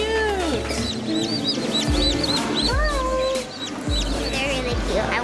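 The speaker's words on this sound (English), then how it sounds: "I want baby chicks." Baby chicks cheeping constantly, rapid high peeps overlapping in a busy chorus, close and loud over low background noise.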